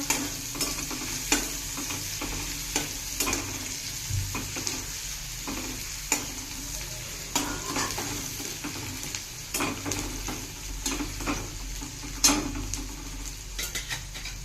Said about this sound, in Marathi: याला आता छानपैकी परतून घेऊया